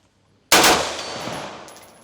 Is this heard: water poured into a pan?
no